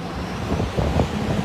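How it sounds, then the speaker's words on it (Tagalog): Strong wind gusting at a large residential fire that has consumed thousands of shanty houses on Isla Puting Bato in Tondo, Manila, as a steady, loud rushing roar with broad low-end buffeting and no voices. "lumakas yung hangin"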